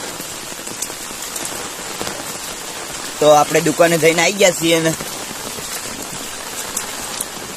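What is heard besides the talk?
heavy rain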